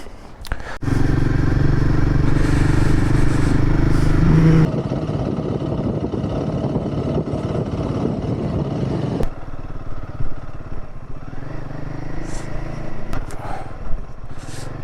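A motorcycle climbing the uphill road toward Chehni Kothi, its engine a loud, close, steady drone that shifts in tone twice as the ride goes on, with some wind and clatter.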